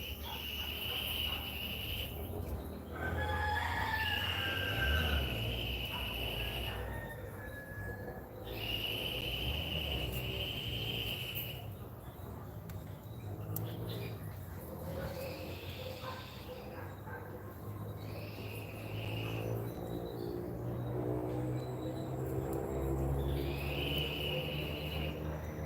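Crickets chirp in repeated shrill bursts that start and stop every few seconds, moderately close, over a low, rumbling background.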